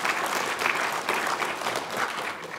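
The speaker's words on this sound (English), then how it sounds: "So let's give Ed a round of applause" At an international forum on Korean unification, a conference audience applauds in a steady, fairly loud burst of many hands clapping, continuing evenly for a few seconds with no talk over it.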